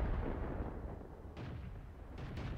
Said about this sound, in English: I fired a shot.